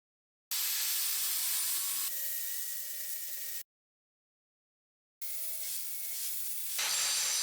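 Metal file rasps across the top of a bolt fitted with a protective nut, in three long loud strokes separated by short silences.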